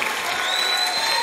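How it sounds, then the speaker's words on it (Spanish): A church congregation applauding during worship, dense sustained clapping from many hands filling the room, loud and continuous. "Ahora dale un aplauso fuerte al Padre,"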